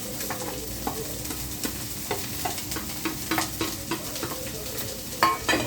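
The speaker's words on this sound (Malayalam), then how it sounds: "അപ്പം നമുക്കിനി ഉള്ളിൽ പച്ചമുളക് ഇട്ട് കൊടുക്കാം" Green chillies fry in a hot pan, a continuous close sizzle broken by regular scraping stirs and clinks of the spoon, with no voices.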